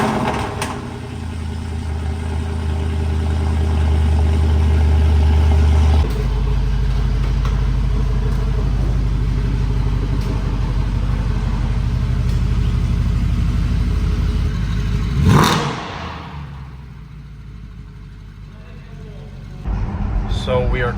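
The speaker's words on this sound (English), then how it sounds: "So we are currently driving around town with Shmee150, going to some photo shoot location" A car engine hums steadily while driving through town, with low rumbling throughout, a louder swell near the end, then a quieter lull before it picks up again.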